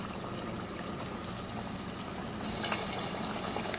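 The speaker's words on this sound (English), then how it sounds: "we're gonna let this fry for about 5 minutes before flipping it" Potato balls (relleno de papa) fry in hot oil with a steady, dense sizzle and bubbling that stays even throughout and grows slightly brighter near the end, heard up close with no voices.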